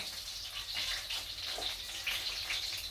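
Cold water pours from a tap into a cup of corn flour for a chicken with garlic and oyster sauce dish, a steady close gushing splash that lasts the whole stretch.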